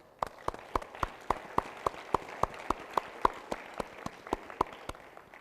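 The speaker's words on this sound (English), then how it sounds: "so we'd like to give them a clap also" Sparse audience clapping at the opening of a youth climate conference, honouring its sponsors: a few hands beating a slow, even rhythm of distinct claps over a quiet room.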